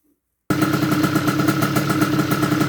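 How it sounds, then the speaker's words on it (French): MBK 51 moped engine warming up, starting abruptly after a moment of silence, then a steady, close, pulsing idle with a clattery two-stroke rhythm. "je vais faire chauffer la brêle"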